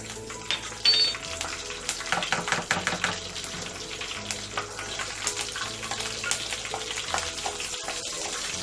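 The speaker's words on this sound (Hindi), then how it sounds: "और अभी मैं करी पत्ता मिक्स कर रही हूँ बघार देने के लिए।" Curry leaves tempering in leftover fish-frying oil for a Konkani-style fish curry, a crackling, watery sizzle with scattered pops and spatula taps, moderately close.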